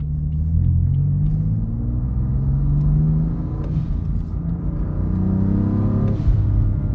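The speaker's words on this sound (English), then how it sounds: "the intake noises from the front are just absolutely insane" A 2017 BMW M4 Competition cruising through a residential area, its engine and intake giving a steady deep rumble with rising and falling revs, heard from inside the cabin without speech.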